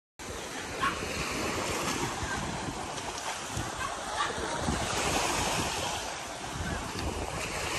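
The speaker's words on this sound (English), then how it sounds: "Rocking on the boat." Steady wash of ocean waves and wind noise around a boat off Dauin, Negros Oriental, a continuous rushing roar with gentle swells and no clear voices.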